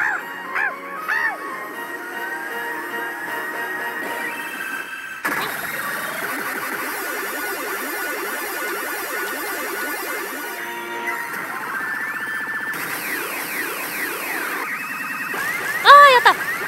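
Jackpot effects from a P Gifuu Doudou 2 pachinko machine blare in a dense, continuous cascade of electronic tones, jingles and sweeping synth sounds, loud and busy throughout, with a sharper burst near the end.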